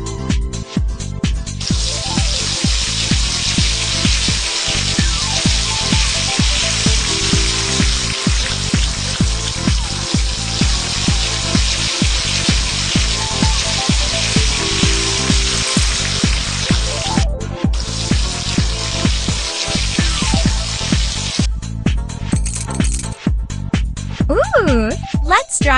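Water rinsing hair in an ice-themed makeover video game, a steady faucet-like rush that runs nearly the whole time over a rhythmic backing beat, with a few brief breaks.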